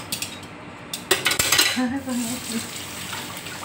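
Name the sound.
washing dishes and pots after cooking biko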